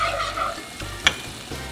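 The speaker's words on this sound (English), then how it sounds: "Once the onions are a little bit cooked and caramelized, start getting caramelized and start getting translucent" Onions frying in a pan while being stirred, a steady sizzle broken by scraping strokes of the spoon and one sharp clack against the pan, with no one speaking.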